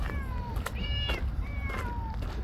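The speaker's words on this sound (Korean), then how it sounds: "어, 야옹했어?" Several close, clear cat meows in a row, quick and insistent, over a low background hum.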